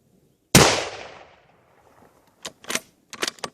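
A rifle shot fired outdoors in winter, one sharp loud crack that rings out and decays over about a second, followed by a few softer clicks and rattles of handling the gun.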